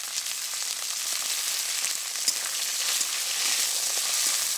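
Prawns fry in a pan with garlic already browned in oil, giving a dense, steady sizzle with small crackles and the occasional stir, close and fairly loud with no voices.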